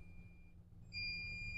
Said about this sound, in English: And you can hear the alarm going off.